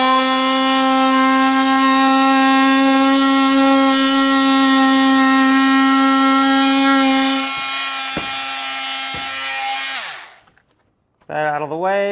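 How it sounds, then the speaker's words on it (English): A multi-tool cuts through a thick plastic bumper cover on a 2018 Ram 2500 during a front hitch install. It gives a loud, steady, high-pitched buzz for about ten seconds, cuts out, then starts again briefly near the end. "And so being somewhat thick plastic, I'm gonna use a multi-tool."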